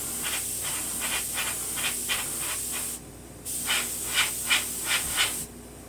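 Short bursts of spray paint hiss onto a model locomotive, a rhythmic series of close, airy pulses with a brief pause midway before the spraying resumes.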